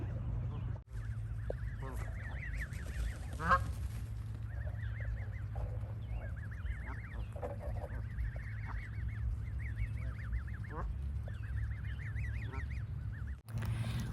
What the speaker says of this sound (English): I found the geese and I fed them. They're still eating.